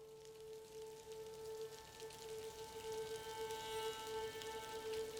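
Heavy rain falling outdoors at a medieval battlefield survey site, a steady soft hiss of drops, with a faint constant tone running underneath.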